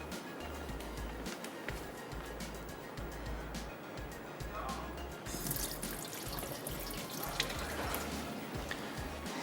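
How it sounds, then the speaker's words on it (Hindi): Water drained from soaked lentils in a home kitchen while making dal dhokli, a steady running and splashing wash of liquid that continues through the clip at moderate level. "थोड़ा सा इसका पानी निकाल देते हैं।"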